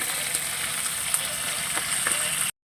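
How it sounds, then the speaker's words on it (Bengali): Steady, loud sizzling of tilapia frying in hot oil, a continuous crackling hiss with occasional pops, ending abruptly. "মাছ ভাজা হচ্ছে তেলাপিয়া মাছ"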